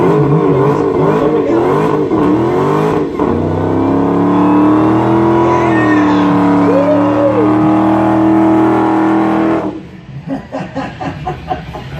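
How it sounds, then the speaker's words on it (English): A 2018 Dodge Demon doing a tire burnout at a Barrett-Jackson auction demo: a loud, sustained engine roar with revving and wavering tones at high power, then rough, sputtering bursts near the end. "That is a burnout, absolutely."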